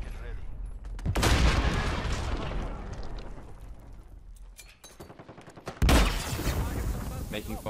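Gunfire in Call of Duty Modern Warfare on a Hardpoint match, with dense bursts of shots and booming impacts in two loud waves, under a voice talking in between.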